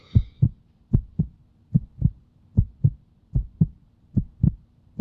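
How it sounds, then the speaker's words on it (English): A heartbeat sound effect, clear and close, with steady paired thumps repeating about six times across the stretch in an even lub-dub rhythm and no voices. "So what's the heartbeat thing for?"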